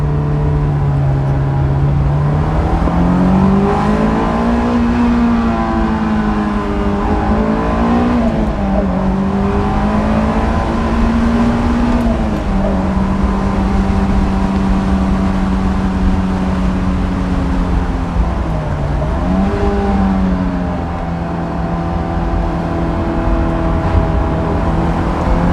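A Honda S2000 sports car drives down a country road, its engine droning loudly and steadily from inside the cabin, the pitch rising and falling as it shifts and changes speed.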